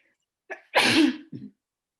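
A single sharp sneeze with a quick intake of breath before it and a short trailing sound after, close by and loud against silence, during a conference question session.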